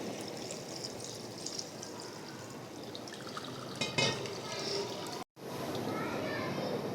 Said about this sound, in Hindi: ये देखें अब इसके अंदर थोड़ा सा हम डालेंगे ठंडा पानी